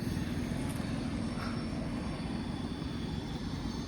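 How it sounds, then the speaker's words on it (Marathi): A passenger train from Mumbai heading toward Nashik on the line near Igatpuri, heard as a continuous low rumble and roar of the moving train, steady and fairly close, with no talking. "आता ही ट्रेन आहे, ही मुंबईवरून ट्रेन आली आहे."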